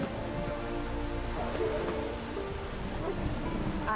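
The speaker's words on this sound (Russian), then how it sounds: "Дождик." Rain falling in The Witcher 3: Wild Hunt patters steadily on surfaces as a soft, continuous wash, fairly quiet, with faint tonal game ambience woven through.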